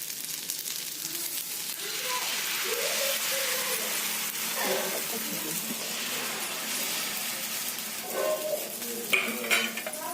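Adai dosa cooking in oil on a pan gives a steady soft sizzle, punctuated by utensil scrapes and light metallic clinks near the end, close and moderately quiet.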